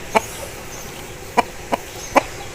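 An Aseel rooster gives four short, sharp clucks at uneven intervals. The calls sound moderately close and stand alone over a faint background.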